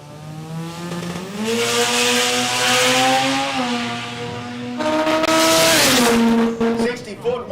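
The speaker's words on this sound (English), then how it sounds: "I just heard him get off the throttle" Drag race car at a billet class event, engine note steady then dropping as the driver backs off the throttle, followed by another rise and fall, heard at a distance under a commentator's voice.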